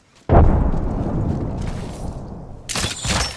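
Gunfire in the Apex Legends video game bursts out as a loud, heavy blast with a rumbling decay, followed by a second sharp burst near the end.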